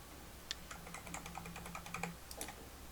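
Keys pressed on a computer keyboard while working in Illustrator, a quick run of light clicks and taps, close but quiet.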